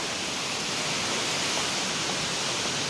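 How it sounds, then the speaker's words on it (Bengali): A waterfall pours in a steady, dense rush, a loud and unbroken roar that fills the whole stretch with no voices over it. "ঝর্ণাটা আসলে অনেক সুন্দর,"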